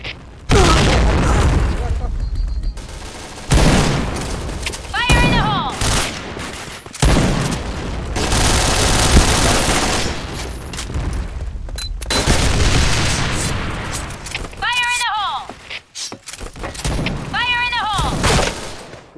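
Grenade blasts and rapid gunfire erupt in repeated loud bursts during a first-person shooter match, with booming explosions, crackling volleys and brief radio-like chirps, and players talking over the action.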